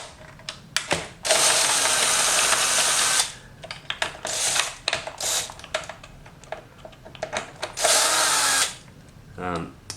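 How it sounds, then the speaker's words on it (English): A power driver spins out 10mm hex bolts from a 2017 Suzuki GSX-S750 motorcycle frame, with two long whirring bursts and shorter clicks and ratcheting between them, close and fairly quiet. "in this case we're using the power driver, but you can use a socket as well"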